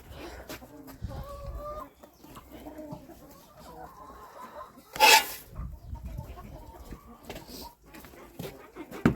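Roosters and hens cluck and mutter in a farmyard, with a sharper squawk midway through and soft scratching and rustling around them.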